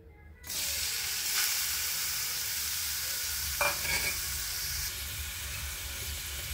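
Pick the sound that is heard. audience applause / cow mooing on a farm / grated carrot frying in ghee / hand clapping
grated carrot frying in ghee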